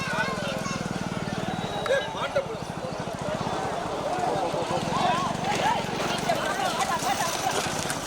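Bulls pulling carts in a bullock cart race in Thattanvayal, with rapid rhythmic hoofbeats and rumbling wheels passing amid loud shouting crowds and engine noise.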